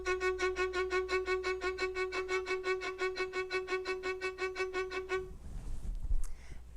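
A bowed string instrument plays repeated sixteenth notes on a single pitch with left-hand finger cueing. The pulse is brisk and evenly driven, close and solo for about five seconds, then gives way to brief handling rustle.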